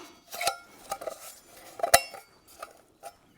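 Metal oil dish from a J.I. Case 200 tractor being handled, giving several sharp clanks and clinks spaced irregularly, fairly close and alone.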